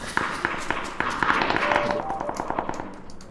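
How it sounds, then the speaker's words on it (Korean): Footsteps in a shooter video game patter in a quick, steady rhythm, clear and close, mixed with other game noise. "발소리."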